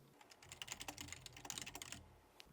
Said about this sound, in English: From here I can simply start typing,